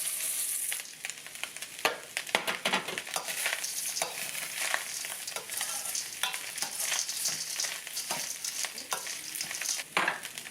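Shell pasta is stirred into ground beef and softened onion browning in a pan, making a steady hissing sizzle broken by scraping and shuffling stirs.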